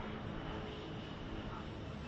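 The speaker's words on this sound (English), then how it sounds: "And always Israeli drones buzzing above." Israeli military drones droning steadily overhead above Beirut's southern suburbs during strikes, a continuous faint hum with no break and no other sounds standing out.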